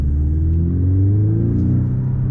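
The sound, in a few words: Porsche 911 engine accelerating on slalom course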